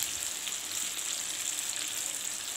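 Oil sizzles and crackles steadily as chicken fries in a pan, a continuous bright hiss with small pops, heard up close and alone.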